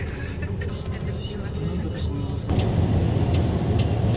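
Steady low engine rumble and road noise fill the inside of a bus in Almaty, Kazakhstan, growing louder and denser partway through as it gets moving, with a voice speaking over the drone.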